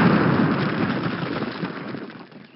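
A grenade detonates in Call of Duty, a loud, broad blast that rolls out into a long rumbling decay lasting a couple of seconds with no voices over it.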